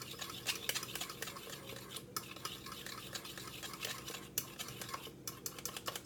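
A single egg is whisked in a small mixing dish for an egg wash, a fast continuous clatter of utensil against bowl, close and steady throughout with no talking.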